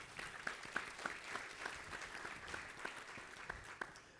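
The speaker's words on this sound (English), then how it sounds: "Give them a round of applause." An audience at an organic produce summit session applauds, a steady patter of clapping hands with sharp individual claps standing out, moderately distant and without speech.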